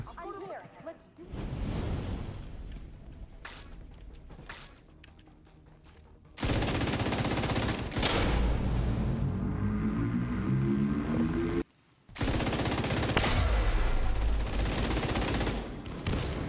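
Sustained automatic gunfire rattles in bursts through a video game firefight, loud and dense, with crashes and whooshes mixed in and a short silent gap partway through.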